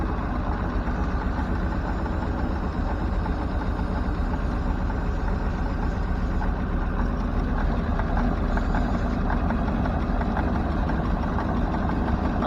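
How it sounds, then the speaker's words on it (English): A Ford F600 truck engine idles close by in a steady, low, rumbling drone that holds an even level from start to finish, with no talking over it. "Alright, well, it's at least idling"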